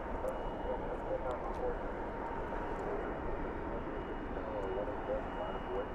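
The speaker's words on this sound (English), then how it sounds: "the next arrival is the Finnair." A Finnair airliner arrives at DFW airport at night, a steady distant jet rumble under people talking throughout.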